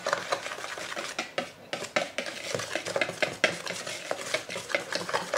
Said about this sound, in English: Yeah, so I'll just mix that up. The dry ingredients.